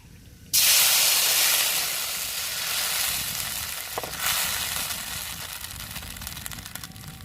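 Dried red chillies hit hot oil when tempered for tomato chutney: a sudden loud burst of sizzling that settles into a steady hiss with a brief stir midway; no voices.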